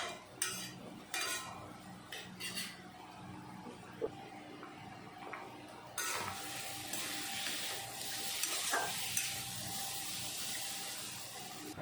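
Spices for a fish curry sautéed in oil with a little sugar in a pan, heard first as spoon scrapes and clinks over a low sizzle, then a louder, broad frying hiss with occasional stirring knocks, close by.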